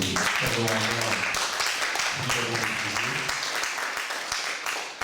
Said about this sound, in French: Je pense que l'on peut déjà applaudir Pierre Gisèle pour ce